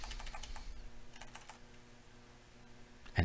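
Computer keyboard typing in quick bursts of key taps, close and fairly quiet, with a pause in the middle and a louder knock at the end; no talking.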